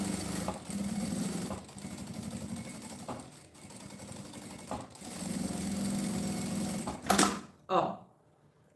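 A sewing machine stitches a straight seam along a fabric flap for a school case, running in several steady bursts with short pauses, then two sharper clacks near the end.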